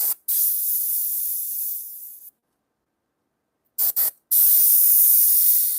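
An airbrush sprays paint in sharp hissing bursts: a sustained spray, a silent gap, two brief spurts, then another steady hiss, close and loud with no talking.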